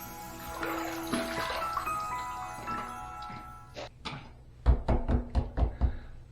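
A safety razor with a Big Ben blade on a Gillette Tech fat handle rinsed under running water, a steady hiss followed by a quick series of sharp taps as the razor knocks against the sink.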